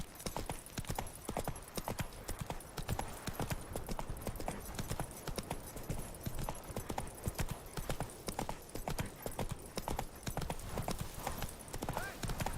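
Horse hooves clip-clop in a steady, brisk rhythm in The Witcher 3, the trotting beat continuous and close throughout with game ambience beneath.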